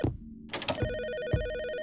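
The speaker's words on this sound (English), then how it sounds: "Seems I'm getting a phone call." A phone rings in the video game Her Apartment: a steady electronic ringtone that repeats, clear and fairly loud, following a few soft thumps and clicks, with no talking.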